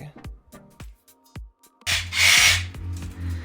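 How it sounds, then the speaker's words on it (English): Power tool cutting fan holes into the metal body of a new Mercedes camper van, a loud burst of grinding cut arriving after a series of sharp knocks and taps, close and alone. "So right now we're just cutting the fan holes"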